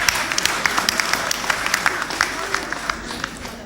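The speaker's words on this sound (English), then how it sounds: "Yes, give us a round of applause." A church congregation applauds during a Sunday homily, a steady wash of many hands clapping with sharper claps popping through, fairly close and sustained throughout.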